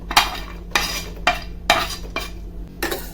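Pumpkin seeds, melon seeds and walnuts roast and get stirred in a hot pan, giving about six sharp bursts of scraping and rattling from the spatula against the pan, with faint crackle between them and no talk.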